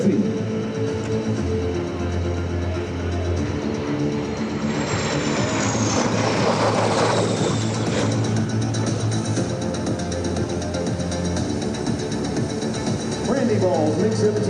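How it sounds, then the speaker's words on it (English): A MiG-17F vintage jet passes at an air show with a broad roar that swells toward the middle and fades away, under a steady announcer's voice and crowd ambience. "From your right, Randy Ball in the MiG-17"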